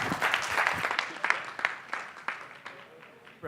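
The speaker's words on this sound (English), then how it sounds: "Big round of applause, please, for Rhett and Link." Audience applause for Rhett and Link at NATPE 2012, a steady wash of clapping that peaks early and then thins out into scattered claps, with no talking over it.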